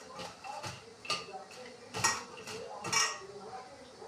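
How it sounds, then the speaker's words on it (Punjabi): Pakora batter being stirred together in a bowl, giving several clinking, scraping strokes of utensil against the dish, fairly close and spaced irregularly, with no one talking. "ਸਾਰਾ ਸਮਾਨ ਇਹਦੇ ਵਿੱਚ ਮਿਕਸ ਕਰ ਲੈਂਦੇ ਹਾਂ"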